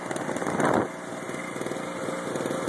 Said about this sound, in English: That's the generator. It's a two horsepower